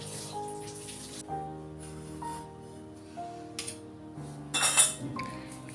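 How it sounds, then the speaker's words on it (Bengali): Tea cups and dishes being washed by hand in a home kitchen: light clinks and chinks of crockery over running, splashing water, close by and moderately loud, in short irregular bursts with no talk. "তাড়াতাড়ি করে চা খাওয়ার বাসনগুলি মেজে তারপরে আরও কিছু বড় বাসন আছে"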